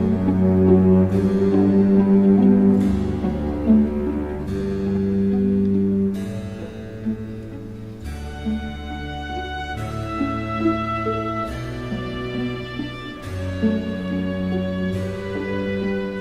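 A recorded Bach piece plays alone in sustained, organ-like chords that change in slow steps, with held tones and no talking.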